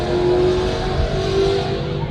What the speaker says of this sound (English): Some racing cars on the outside road there you might be able to hear.